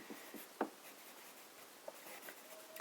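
A broad nib pen writes with Lie de Thé ink on paper, making faint, soft scratching strokes with one brief tap, very quiet and close.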